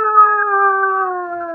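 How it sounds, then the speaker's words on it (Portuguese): A long, steady howl resembling a wolf's rings out alone, loud and close, holding a smooth sustained pitch that sags slightly toward the end. "depois da meia-noite, o lobo late."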